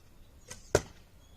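Arrow loosed from a bow by an archer on horseback, a sharp single whoosh-snap near the microphone after a fainter earlier swish, with quiet background otherwise.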